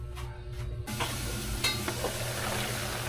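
Vegetables for Filipino pinakbet simmer in a covered pot with a small amount of water, giving a steady bubbling hiss with light clinks, heard close up with no one talking.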